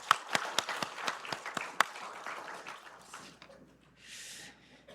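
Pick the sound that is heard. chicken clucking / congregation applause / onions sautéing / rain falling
congregation applause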